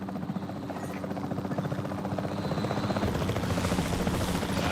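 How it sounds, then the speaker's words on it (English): A capture team helicopter in Jurassic World Evolution 3 thumps with a fast rotor chop and a buzzing engine drone, steady and growing slightly louder as it nears, with no talking. "The priority needs to be tranquilizing it with the capture team chopper."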